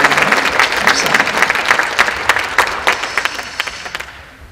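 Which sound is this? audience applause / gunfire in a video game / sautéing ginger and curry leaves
audience applause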